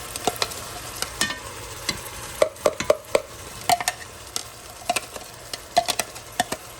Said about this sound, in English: I'm going to go ahead and start putting in my peppers and onions. Just get them over here and let them saute on their own